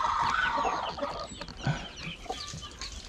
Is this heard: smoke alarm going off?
no